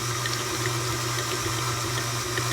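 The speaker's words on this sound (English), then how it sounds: "I'm going to add the water to start loosening it up" A steady stream of water pours into pancake batter without a break, a continuous splashing hiss over a low hum.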